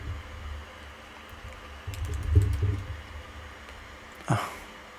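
Close typing on a computer keyboard, with short bursts of clustered keystrokes separated by pauses and one sharper knock near the end.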